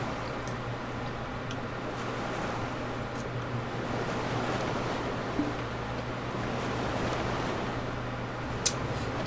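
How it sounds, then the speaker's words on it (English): Waves slapping against the hull of a ship sailing the open ocean in the video game Black Desert Online, a soft wash of water with a low steady hum beneath and a few faint ticks. "You're actually hearing the water slap on the side of the ship."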